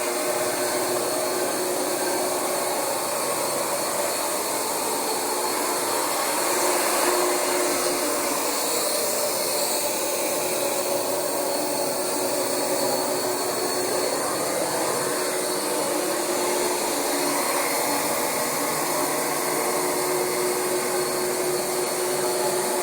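A carpet cleaning machine drones continuously at close range, a loud, steady vacuum-like whoosh and whine that holds level throughout with no pauses and no talk.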